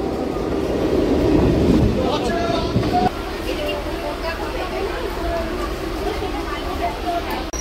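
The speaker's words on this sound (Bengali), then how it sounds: "ওই যে ঢুকে গেল বনগাঁ ট্রেন" A Bongaon local train rolls into Ranaghat station with a loud, close rumble and wheel clatter that eases off as it slows, while people talk on the crowded platform.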